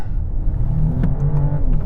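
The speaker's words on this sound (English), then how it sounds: "I think it's fake noise coming through the speakers to make it sound like a performance car" A luxury saloon accelerates in sport mode, its synthetic engine note piped through the speakers as a steady rising hum and whir heard from inside the cabin, loud and continuous without talk.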